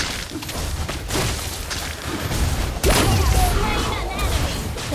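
Gunfire in a video game, with dense bursts and booms forming a loud, continuous barrage mixed with game effects and voices throughout.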